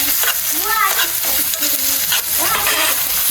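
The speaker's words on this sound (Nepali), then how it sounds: "यहाँ चाहिँ किमा भुट्दैछु" Chicken mince frying in a pan with onion, garlic and ginger, a steady close sizzle with stirring scrapes running throughout, brief tonal squeaks on top, no talk.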